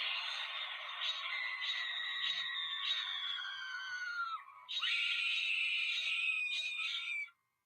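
A toy werewolf lets out a loud, continuous electronic scream with warbling, wailing tones, cutting out briefly near the middle before screaming again, then stopping abruptly.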